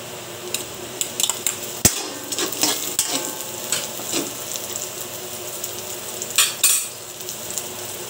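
Chili, garlic, ginger and onion fry in a hot pan, a steady loud sizzle broken by sharp clinks and scrapes of a utensil stirring, with no talking.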